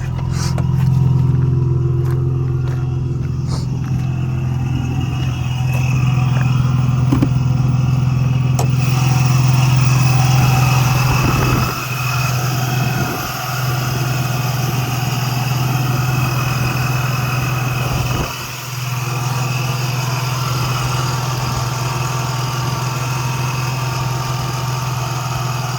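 A boosted Chrysler 300 sits idling with a steady low engine drone and rumble, close and continuous, with a few slight dips in level.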